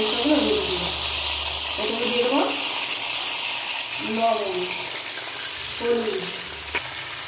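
Ginger paste thinned with water sizzles and fries in hot oil, a steady hiss with occasional stirring scrapes, while someone talks over it.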